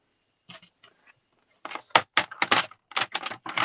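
Paper being trimmed for a Christmas scrapbook layout, a few faint ticks at first, then a quick run of sharp, close clicks and cuts in an irregular rhythm.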